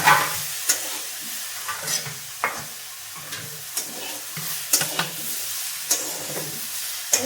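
Vegetables for a Bengali chorchori frying and sizzling in a pan at home, stirred with a utensil that gives sharp scraping clicks at irregular intervals over a steady close sizzle.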